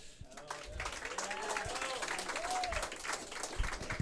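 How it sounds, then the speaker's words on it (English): A gym crowd at a Tigers event gives senior player Jake Wiery sustained applause and scattered cheers, with voices mixed into the steady clapping. "you can get a round of applause like that"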